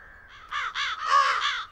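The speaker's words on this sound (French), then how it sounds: "comment empêcher les corbeaux de tout manger?" Crows caw in a cartoon farm field in a Thomas the Tank Engine episode, a quick run of four or five harsh, loud calls following a softer opening note.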